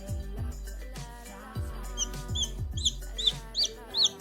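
A young chick clucks and peeps close by, soft low clucks giving way to sharp high chirps that grow more frequent toward the end.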